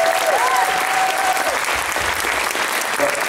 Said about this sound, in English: a round of applause for our wonderful guest of honor, Chaz.